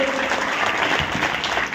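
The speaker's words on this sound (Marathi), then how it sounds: "टाळ्या वाजायला पाहिजे" Crowd applause at a Marathi gathering, dense and steady clapping filling the whole moment at close range with a faint murmur of voices underneath.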